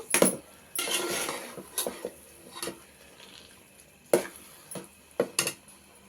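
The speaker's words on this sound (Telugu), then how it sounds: "ఇంట్లో వేసుకున్నానండి సాంబార్ ఇలా కలుపుకుంటూ" A metal spoon clinks and scrapes against a plate while sambar is mixed into rice at home, in a few sharp bursts separated by quieter gaps.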